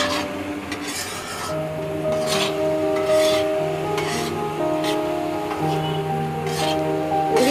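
A spoon scrapes and rubs steadily against a pan while egg halwa is stirred, with rhythmic rasping strokes over a soft sizzle.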